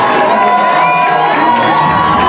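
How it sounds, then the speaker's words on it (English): School homecoming crowd cheering and whooping as seniors are named homecoming king and queen, loud and continuous with high shouts and children's screams layered over a dense roar. "the onlooking crowd cheered seniors Trinity Smiley and Sophia Noguera as homecoming king and queen"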